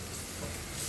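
Tomatoes stirred into onion already frying with chili powder and turmeric, a short continuous sizzle with a scraping stir, close and steady with no talking.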